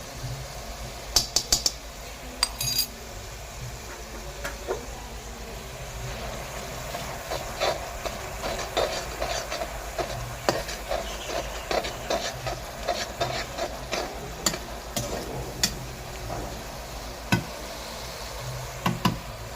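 Chopped tomatoes with pounded ginger and garlic frying in oil in a pan for a bitter gourd dish, a low sizzle under scattered ticks and scrapes of stirring, with no talking.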